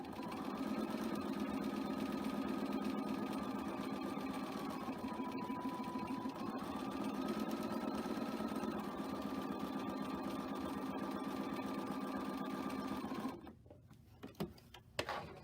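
A sewing machine runs steadily for about thirteen seconds, stitching quilt units along a drawn line with a humming motor whine that shifts pitch slightly, then stops, followed by a few soft clicks and handling noises.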